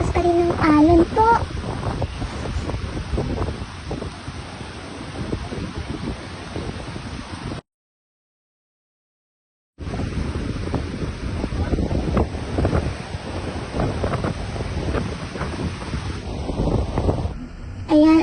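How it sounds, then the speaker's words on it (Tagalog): Steady wind buffeting the microphone over a constant roar of strong surf on Boracay, with a brief dropout midway before the rushing noise resumes. "Napakalakas pa rin ng alon po."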